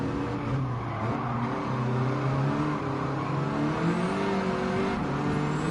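A car engine revs in the Gran Turismo 7 racing game, a loud continuous engine tone that climbs and falls with the throttle, alone without talking.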